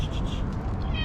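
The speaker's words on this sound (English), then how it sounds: "Kotek." A cat meows a few times in quick succession, close by, over a steady low background rumble.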